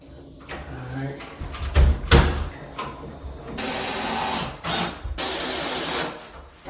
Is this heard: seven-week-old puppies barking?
no